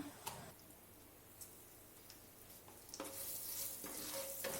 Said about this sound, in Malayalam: ഇതൊന്ന് ഇനി നെയ്യിൽ നന്നായി ചൂടാക്കിയെടുക്കാം.